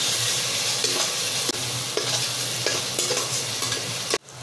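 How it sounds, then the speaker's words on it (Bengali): Garlic, ginger, green chilli and tomato paste stir-fried together for Bengali mutton kasha: a loud, steady sizzle with regular spatula scrapes and knocks, cut off abruptly near the end. "সবগুলোকে একসাথে ভালো করে কষিয়ে নেব।"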